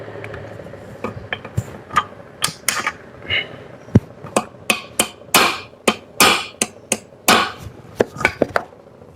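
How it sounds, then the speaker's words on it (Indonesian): A bent axle shaft is hammered straight in a repair shop, with roughly twenty sharp metallic blows in an uneven, fairly quick rhythm, loud and close, no talk. "Kita pukul aja."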